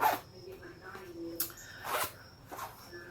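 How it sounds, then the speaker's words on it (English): A zipper rasps open and shut in a few quick, separate pulls, fairly faint against a quiet room. "It's got a zipper, and the zipper works really good."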